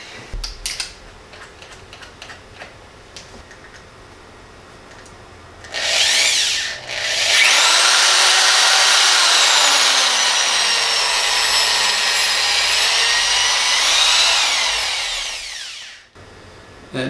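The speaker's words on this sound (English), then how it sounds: "to drill a hole in there" A power drill bores a hole through an air intake boot tube on a 2006 Acura TL, a sharp burst followed by a long, loud, steady whirring grind that winds down abruptly near the end, with no talking.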